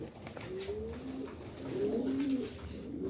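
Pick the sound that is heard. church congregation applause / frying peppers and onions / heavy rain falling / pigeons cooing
pigeons cooing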